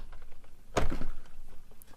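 A hand-cranked die-cutting machine thunks once as its roller passes over a cutting blade, a single short, fairly loud knock followed by a brief rattle in an otherwise quiet room.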